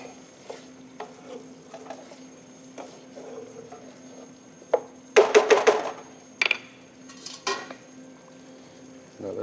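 Butternut squash risotto being stirred in a pot, soft rhythmic spoon scrapes over a low simmer, then a burst of louder metallic clanks and rattles against the pot's side before the stirring settles again.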